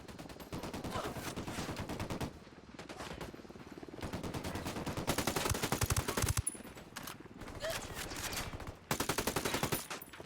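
Bursts of automatic rifle fire in the Ghost Recon Wildlands video game, rapid loud volleys rattling in long stretches with short gaps between them, no voices over the shooting.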